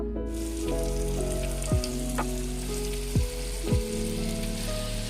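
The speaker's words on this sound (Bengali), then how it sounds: "সমস্ত বলগুলোকে আমি তেলের মধ্যে দিয়ে দিয়েছি। এবার ধীরে ধীরে এগুলোকে ফ্রাই করতে হবে।" Snack balls frying in rice bran oil over a simmering flame, a steady dense crackle and sizzle throughout with a few sharper pops and faint clinks, no voices.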